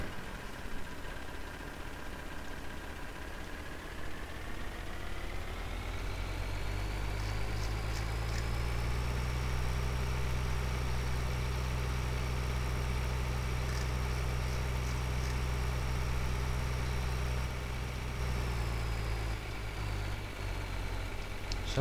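A tractor engine in Farming Simulator, used with a sugar beet fertilizing setup and mobile fuel tank, idles steadily, then rises to a higher, louder hum and holds there, alone without talk.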